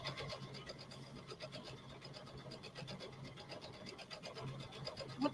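An XP3 sewing machine stitching during an in-store demonstration: a continuous, quiet mechanical whir with a fast, even needle rhythm, steady throughout with a small knock near the end.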